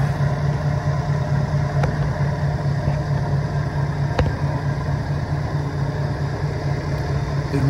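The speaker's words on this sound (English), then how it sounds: "Let's get under the hood and let you have a listen to the flathead V8." 1951 Ford Victoria flathead V8 idling under the open hood, a steady close low rumble with an even, slightly raspy pulse and occasional faint ticks, no talking.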